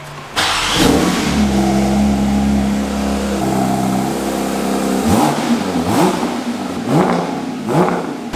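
A Porsche GT3 RS engine revs hard and holds a steady roar, then gives several sharp rising revs with crackling exhaust pops, loud and close.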